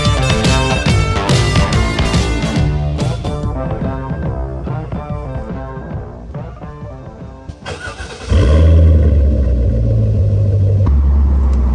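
Car engine running while driving: a steady mid-range engine drone under loud music, then a deeper, louder rumble surging in partway through and holding steady.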